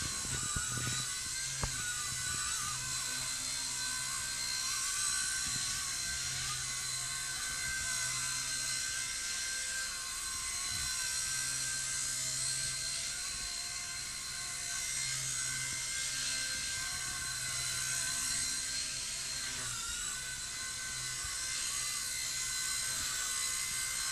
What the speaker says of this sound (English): what I like about this helicopter is very stable, even with aggressive setup, no hands